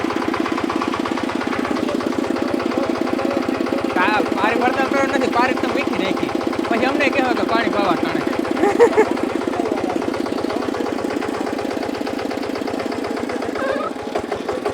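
A small micro tractor engine for farm use runs steadily nearby, a loud rapid rhythmic chugging idle that continues throughout, with faint voices now and then.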